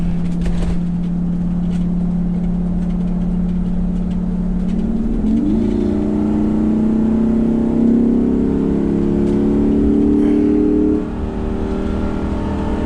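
A 2011 Winnebago Vista 35F gas motorhome engine drones loudly and steadily, then its pitch climbs as it accelerates from 40 to 60 on a highway, with road and wind noise throughout.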